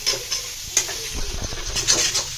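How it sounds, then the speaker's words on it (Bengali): Food stirred and fried crisp in a pan on high flame, with a continuous hiss of oil and repeated scraping taps of a spatula against the pan, close by, without speech. "এবার এটাকে ভালো করে মিক্স করতে হবে গ্যাসটাকে এবার জোরে দিলাম একদম ঝুড়ো ঝুড়ো করে ভাজতে হবে"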